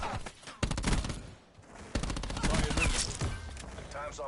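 Rapid automatic gunfire in the online shooter Black Ops 4, fast bursts of shots in quick succession with brief pauses, loud over game sound effects and a voice talking.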